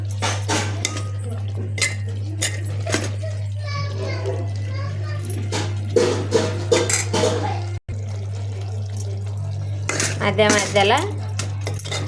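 A ladle clinks and scrapes repeatedly against a pot of tomato chutney cooking with tamarind and garlic paste, close and irregular beneath someone talking, children's voices and a steady low hum.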